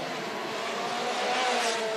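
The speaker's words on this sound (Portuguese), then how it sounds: "Passou o Merlo, vem para o box o Fernando Galera." A Formula Renault race car on the Salvador street circuit roars past with a steady engine drone that builds slightly, heard at a moderate distance amid broadcast ambience without clear speech.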